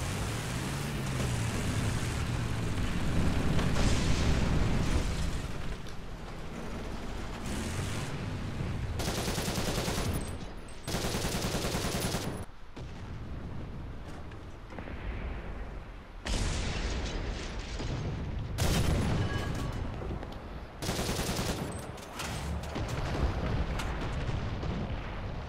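Stuka attack in War Thunder amid heavy combat: loud bursts of cannon and machine-gun fire with booming explosions, alternating with sudden drops to quieter stretches across a long sequence.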